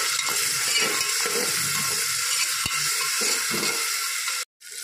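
Tomatoes sautéing in a pan for a Sunday mutton thali, a steady loud sizzle with soft stirring scrapes and one sharp knock before a brief cut near the end.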